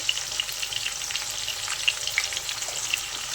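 Cauliflower fries in a pan with turmeric and salt for aloo gobhi matar, sizzling steadily up close with soft crackles and occasional stirring scrapes, no voices.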